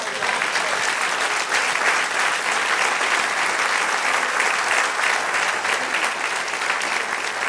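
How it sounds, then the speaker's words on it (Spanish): Sustained, dense applause from a church congregation fills the space at steady loudness throughout, a broad wash of many hands clapping together with no break. "Denle un aplauso al Señor."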